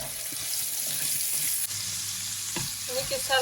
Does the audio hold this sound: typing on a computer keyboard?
no